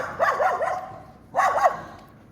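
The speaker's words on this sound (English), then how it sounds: "Those dogs making a noise." Two short bursts of dog barking on a street in Haverhill, Suffolk, each a quick cluster of yelps about a second apart, moderately distant with no talk over them.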